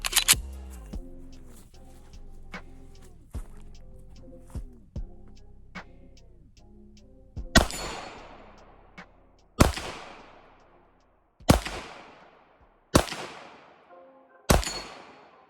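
Canik Mete SFX pistol fired at a shooting range: sharp, loud reports, with several quicker shots early on, then five heavy, widely spaced shots, each with a ringing decay.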